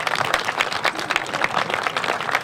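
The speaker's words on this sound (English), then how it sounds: "Give them a round of applause" A crowd at a restaurant groundbreaking ceremony claps in steady, moderately loud applause, individual claps audible in a lively, uneven patter from start to finish.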